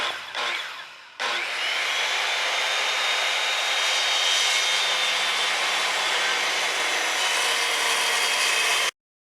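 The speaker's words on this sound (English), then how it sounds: "I'll go ahead and set up that saw for making a notch in this timbers" A saw notches heavy wooden timbers for a fuel tank stand. After a brief start it settles into a loud, continuous cutting whine for several seconds, then stops abruptly.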